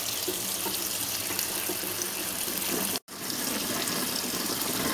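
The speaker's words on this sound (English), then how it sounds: "And now I'm just going to let some water run over them for a while." Tap water runs steadily into a sink over purslane being rinsed, a constant hissing splash close by, with a brief cutoff near the middle before the flow resumes.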